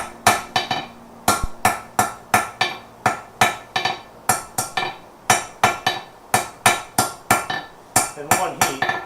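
A professional blacksmith forges hot metal round and smooth in one heat, striking about thirty sharp, ringing hammer blows in a steady, slightly uneven rhythm, loud and close, with no talk.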